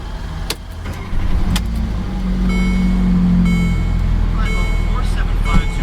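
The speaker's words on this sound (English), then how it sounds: "Now to start the CLA, take your key." A 2014 Mercedes-Benz CLA 250 4MATIC with a small four-cylinder engine starts up about a second in, then settles into a steady, close idle hum while soft electronic chime tones sound over it.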